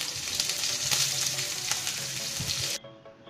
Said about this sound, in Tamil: இப்ப கொஞ்சம் கடுகு, ஜீரகம், பெருங்காயம் இத இந்த எண்ணெயில போட்டுக்கலாம்.